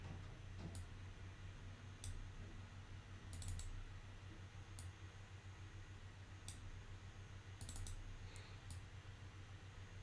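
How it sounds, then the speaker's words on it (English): A computer mouse clicks while someone models in Maya: sharp, light clicks, some single and some in quick doubles, sit irregularly over a faint steady hum, close and quiet. "so I'm just double clicking to get an edge loop"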